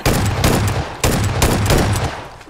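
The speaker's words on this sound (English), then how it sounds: "I think somebody's shooting at me" Gunfire in a video game: loud, close bursts of rapid shots come in two quick volleys, each fading before the next begins.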